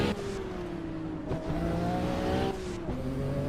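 Race car engine in Assetto Corsa, likely a V6 turbo, droning steadily at high revs with gear-change dips and brief tire noise, close and continuous without talk.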